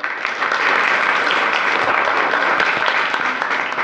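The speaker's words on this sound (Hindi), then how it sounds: "शाबाश, तालियां" Schoolchildren and staff clap at a government high school, a dense, close, continuous round of applause filling the whole moment.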